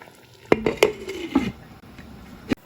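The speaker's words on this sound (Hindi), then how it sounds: "इसको अब हम कवर करके 10 मिनट तक पकाएंगे" Metal lid set onto a cooking pot of chicken curry, a few close clanks and clinks with a scraping rattle as it settles, then one last tap.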